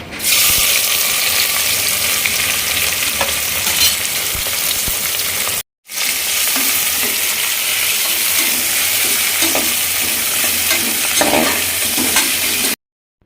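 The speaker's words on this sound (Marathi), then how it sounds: "दीड पळी मी तेल ओतलेलं आहे आणि त्याच्यामध्ये चार कांदे जे आहेत ते उभे करून फ्राय करत आहे" Four sliced onions fry in about a ladle and a half of oil for egg biryani, a loud, dense, continuous sizzle close at hand with faint stirring scrapes, briefly cut off midway and resuming, no voices.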